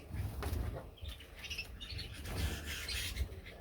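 A pair of cherry finches give high, thin chirps and twitters in short bursts over a low rumbling background, fairly close but soft.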